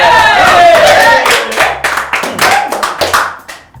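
Hands clapping at a quiz show, a burst of separate sharp claps from a few people following a voice, loud and close.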